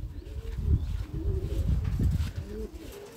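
Racing pigeons in an aviary at a training loft in Lithuania coo in low, soft, overlapping calls, a steady murmuring chorus close by with no voices.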